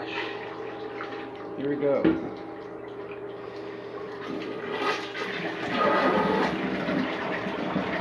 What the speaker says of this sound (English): Here is another flush.